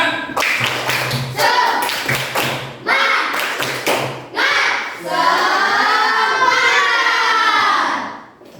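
A classroom of pupils performs a rhythmic clapping chant, claps and thumps keeping a steady beat beneath loud group voices chanting in unison, ending in a sustained shouted cheer.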